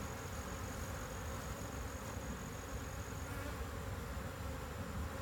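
Honeybees hum continuously around a beehive entrance fitted with a mouse guard, a dense steady buzz from many insects close by, with no speech.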